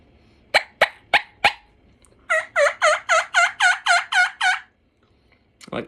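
A hand-worked turkey call mimics a young hen: four sharp clucks, then a quick, even run of about nine clear yelps, close and loud, ending with a brief soft note.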